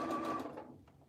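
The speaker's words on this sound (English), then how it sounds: "You're going to slide this under your presser foot, your sewing foot, and you're just going to be sewing in the round." Sewing machine stitching fabric for an ear saver in the round, a close steady motorized whir with a high whine that slows and fades over a second.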